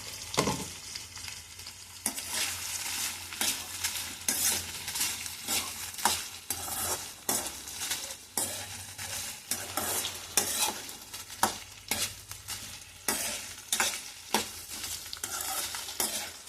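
Onions and spices fry in a pan while a spatula stirs them repeatedly, making a rhythmic series of scraping strokes over a quiet, steady sizzle, close and with no talk.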